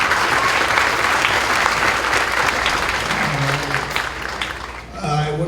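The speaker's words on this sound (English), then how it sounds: "Another round of applause for our featured soloist tonight." Audience applause for a featured soloist at a middle school winter concert, a steady wash of many hands clapping throughout, with a voice starting to speak over it toward the end.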